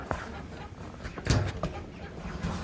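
A small backyard flock of chickens, including a breeding hen, clucks in short, scattered calls at close range, with a louder burst in the middle and a faint voice mixed in.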